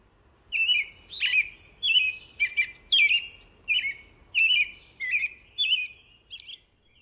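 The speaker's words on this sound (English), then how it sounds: "Think of the familiar and sweet-sounding American robin" An American robin sings about a dozen short, clear caroling phrases in an even rhythm, each separated by a brief pause, close and distinct over a quiet background.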